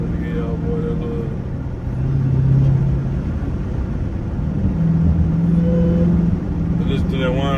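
An 800hp Dodge Hellcat's engine rumbles loud and close from inside the car, rising in steady revs with a thin whine on top, while someone talks over it.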